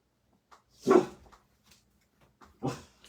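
A dog barks in two loud, separate bursts, about one and a half seconds apart, close by and not under any talk.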